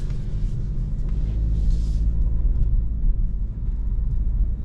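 A Geely Cityray 2026 with a 174 HP petrol engine drives slowly through turns inside a large garage at night, heard as a low, steady interior rumble with a brief hiss partway through.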